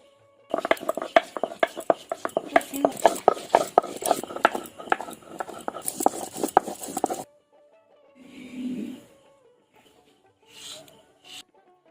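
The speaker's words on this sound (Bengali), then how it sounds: "এই আলিটা মা এখন বেটে নেবে" Bitter ali leaves are ground with dew water on a grinding stone, a close, rhythmic rasping scrape of stone on stone for several seconds that then stops, followed by a few faint soft sounds.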